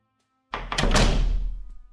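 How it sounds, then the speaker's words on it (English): A door bangs shut with a single heavy thunk that starts abruptly and then rings and fades for a little over a second, close and loud, with silence before it. "Guys will hear the door open and slam shut."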